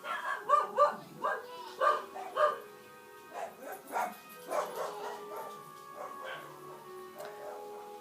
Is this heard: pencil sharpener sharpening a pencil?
no